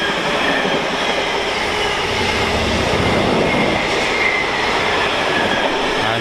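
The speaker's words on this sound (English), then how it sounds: "Next up, class 66 freight service 66172" A Class 66 freight train, locomotive 66172, rolls past close by on the main line, a loud continuous rumble of wheels and wagons with rhythmic clatter throughout.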